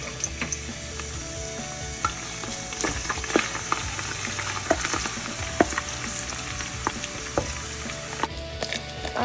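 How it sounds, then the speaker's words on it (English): Fresh ginger and garlic fry in hot oil for an ayamase pepper stew, a low, steady sizzle crackling with small pops and occasional utensil clicks, close and fairly quiet, with no voices. "Add your ginger and garlic, fresh ginger and garlic."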